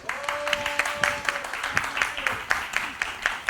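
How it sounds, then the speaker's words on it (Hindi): Studio audience at a comedy show breaks into loud, steady applause after a call to clap, the clapping dense and continuous throughout. "एक बार जोरदार तालियां सब लोग बजा दीजिए प्लीज।"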